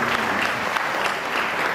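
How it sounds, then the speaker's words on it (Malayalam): An audience at an engagement ceremony breaks into warm, sustained applause, a dense wash of clapping filling the room with no voices on top. "എല്ലാവരും പ്രാർത്ഥനാപൂർവ്വം ഒന്ന് കൈയടിച്ച്"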